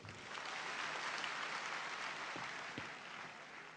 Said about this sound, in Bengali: আমার মনে হয় আরো একবার একটা জোরে তালি দেওয়া উচিত